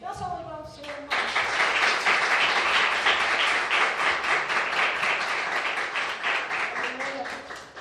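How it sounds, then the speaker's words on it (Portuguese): A church congregation bursts into sustained, loud applause mid-service after a short spoken lead-in, the clapping filling the room steadily before easing near the end. "Dá uma salva de palmas pro Senhor, irmão."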